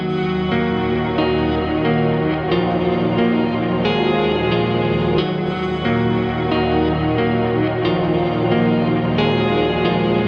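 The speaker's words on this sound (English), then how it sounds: "Midnite is a multi-layered guitar VST utilizing granular synthesis, adding texture and intense overtones for an unparalleled music experience." Guitar melody run through the Karanyi Sounds Midnite granular synthesis plugin on its default preset, pitched up a couple of octaves, giving a dense, continuous, shimmering wash with lingering overtones, loud and steady with no talking.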